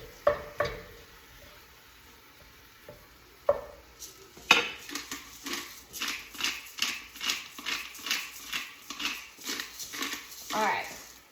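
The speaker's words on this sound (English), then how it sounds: "So go ahead and start breaking up that meat as it's cooking." Ground meat for gluten-free taco soup is broken up in a sizzling pan, a rhythmic run of scraping, clacking utensil strokes about twice a second, preceded by a few scattered knocks.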